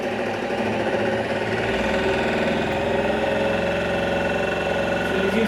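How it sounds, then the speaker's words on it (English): An electric motor running at 1400 rpm on a drive supply, giving a loud, steady mechanical whir with a constant tonal hum and fine rapid vibration throughout. "when I run the motor at 1400 rpm"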